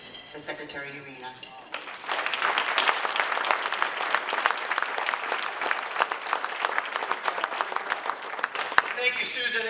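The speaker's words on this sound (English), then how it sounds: "Please give a warm round of applause for Secretary Urena." Warm applause from a seated audience at a veterans' dinner social in North Reading, Massachusetts, starting after a brief voice and swelling into steady, dense clapping that continues evenly to the end.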